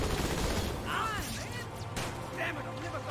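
Gunfire in Halo 2, a short burst of shots and energy-weapon blasts under a busy, fairly faint game mix, with a person talking over it.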